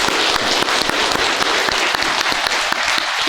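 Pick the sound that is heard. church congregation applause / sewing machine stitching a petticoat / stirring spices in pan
church congregation applause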